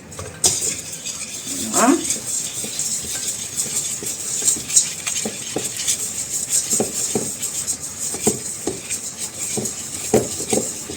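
Whisk or spoon stirring flour into a mixture in a bowl, giving a steady scraping clink of utensil against the bowl over about eleven seconds, with brief talk near the start.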